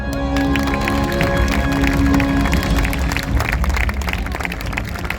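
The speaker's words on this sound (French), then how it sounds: "Et vos applaudissements." An audience applauds at the Parc Astérix diving show, dense sustained clapping with crowd noise and cheering throughout, loud and close, with some voices mixed in.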